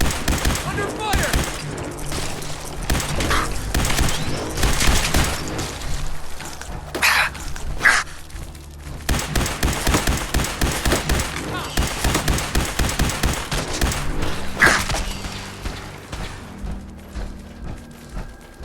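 Sustained gunfire from Fallout 4 combat with the Enclave near a Vertibird, rapid bursts and single shots crackling continuously for close to twenty seconds, loud and near, with brief voice lines mixed in.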